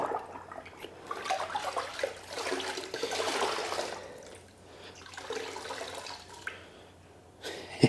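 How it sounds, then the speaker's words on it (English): A wet wash sponge is wrung out over a bucket of rinseless wash solution, water streaming and splashing down in two main bursts with trickles between, close and fairly loud, no talking. "we should have basically no more dirt left on the sponge. So let's try it after one dunk. Wring it out."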